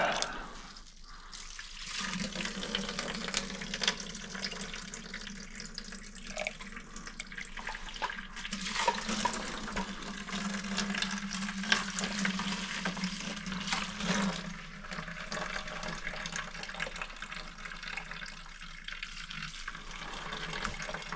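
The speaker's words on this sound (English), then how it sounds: "Put a little bit of a rinse in here." Rinse water poured into a coin-cleaning container, a continuous close splashing and trickling flow that holds steady throughout with no voices.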